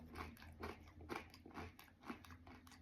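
Crunchy bites into a tortilla chip, a series of quiet crisp crunches repeating every half second or so, close and alone with no talking.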